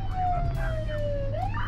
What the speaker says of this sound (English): Enough of playing the siren for the people on the radio.